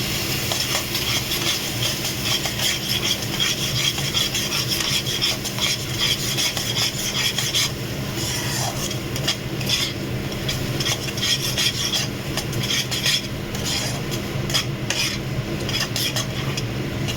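A spoon scrapes and stirs katla fish curry masala frying in a pan, a continuous rough rubbing and scraping over a faint sizzle, close and fairly loud.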